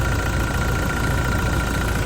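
A Toyota Fortuner engine idling, a steady, even mechanical drone with a fine rapid pulse, close and unchanging throughout with no talk.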